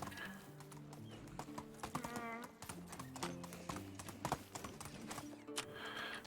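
Horse hooves clip-clop in the medieval life-sim game Medieval Dynasty, a quick steady trot of sharp close knocks over layered game music, with a brief tonal chime in the middle and no speech.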